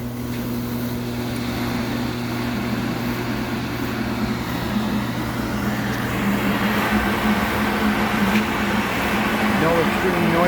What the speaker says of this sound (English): So we're going to do a wash right now on a 2-minute cycle. Just push, you'll hear it.